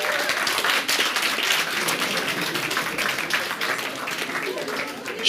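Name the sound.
audience applause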